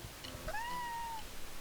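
A cat in a show episode lets out a single clear, drawn-out meow with a rising then falling pitch, fairly close and alone over faint background.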